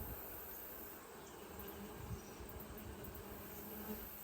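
Honey bees buzz in an open beehive during an inspection, a dense, continuous hum of many insects, close and steady with no talk.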